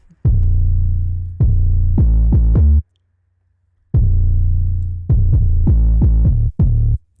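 Punchy 808 bass notes run through a Waves compressor with slow attack, hitting in two short rhythmic phrases of deep booming tones that slide and decay, separated by a brief gap of silence.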